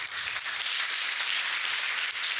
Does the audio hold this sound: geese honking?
no